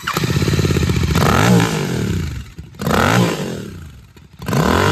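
A Royal Enfield GT650 motorcycle with a Red Rooster exhaust revs loudly up close in repeated rising bursts, with a throaty rumble and brief dips between throttle blips.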